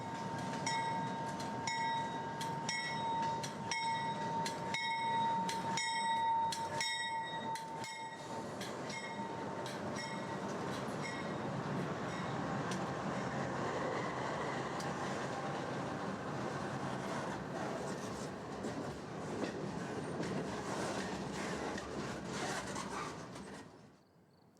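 A Canadian Pacific freight train rolling on Canadian National track through a mountain canyon, wheels clicking over rail joints in a rapid series early on, then a steady rumble with a sustained squeal, fading out at the end.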